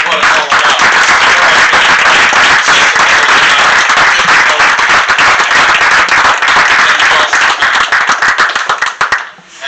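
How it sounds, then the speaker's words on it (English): Loud, dense audience applause fills a city council candidate forum at a senior center, steady clapping for nearly ten seconds before tapering off at the end. "I'd like to ask y'all to give them a round of applause"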